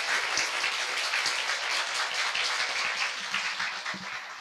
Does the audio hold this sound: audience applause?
yes